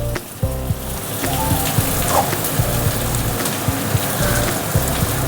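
Chopped onion and eggplant frying in a pan give a dense, steady sizzle and crackle close by, with faint clinks from a utensil and no talking.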